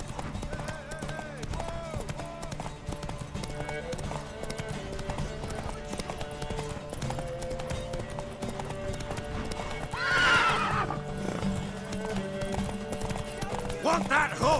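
In the Witcher 3 video game, a horse whinnies loudly over steady clip-clopping hooves, with continuous game music and voices running underneath.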